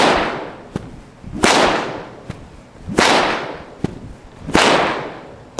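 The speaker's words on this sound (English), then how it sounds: "So again, apply bull whip." A bull whip cracked near a horse during confidence training, giving three loud, sharp cracks about one and a half seconds apart, each with a whooshing swing before it, plus lighter snaps in between and no talking.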